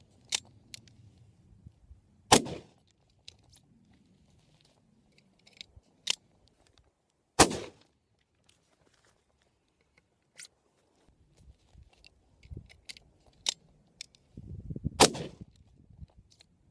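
A Hatfield single-shot shotgun with a pistol grip, fired outdoors, gives several sharp separate reports spread apart, with quieter handling clicks and rustling between them.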